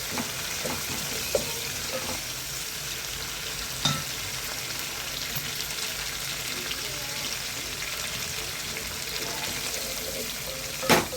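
Mint leaves and green chillies fry with cloves in hot oil in a pan for a chicken curry. A continuous soft sizzle is broken by a few sharp stirring clicks and taps.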